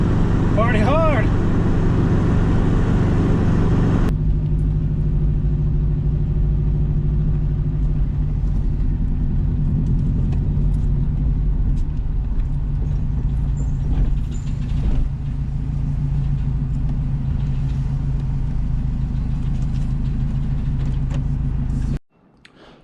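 Steady in-cabin engine and road drone of a Subaru RS sedan on a test drive after TGV deletes, continuous and fairly loud for about twenty seconds before cutting off abruptly near the end.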